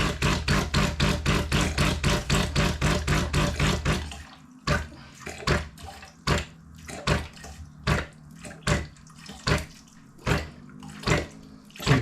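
Water from a tap fills the tank of a Delonghi Dedica coffee machine for descaling, first a dense rapid burst of splashing, then a string of separate sloshing pours and drips at a slow, uneven pace.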